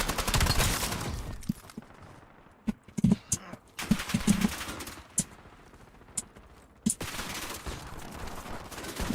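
Gunfire in Call of Duty: Black Ops 7, with bursts of automatic shots and scattered single cracks at varying distances over a continuous background of game noise.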